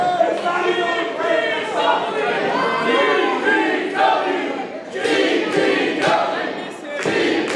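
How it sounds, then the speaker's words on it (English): A capacity crowd at a live wrestling show roars and cheers throughout, loud and sustained, with chanting swells and shouts rising and falling, and a commentator's voice mixed in. "Man, this crowd has been electric"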